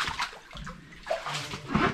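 Splashing and sloshing as feet step into standing water in an abandoned mine below a mountain in Scotland, a few close wading sounds in a damp, enclosed space.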